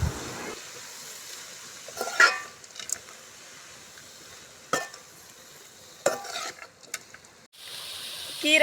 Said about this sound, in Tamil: நல்லா அதை நல்லா கிண்டி விட வேண்டியதுதான்